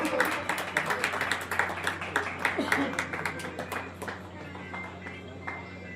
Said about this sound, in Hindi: सब आप जोरदार तालियां रखें, आशीर्वाद स्वरूप।